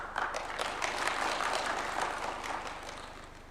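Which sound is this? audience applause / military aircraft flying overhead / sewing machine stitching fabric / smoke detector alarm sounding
audience applause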